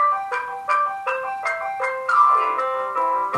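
Preschool children vocally imitating a car breaking down, a group of voices producing tonal engine-like hums in short repeated bursts that step between pitches, ending in a wavering, sliding phrase, moderately loud with no other talk.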